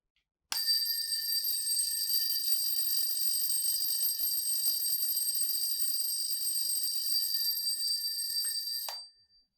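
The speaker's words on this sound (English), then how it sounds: "So when we supply electricity, the bell is ringing." An electric bell in a science class demonstration rings continuously at a steady, loud, bright pitch for about eight seconds, then cuts off abruptly with a brief rattle.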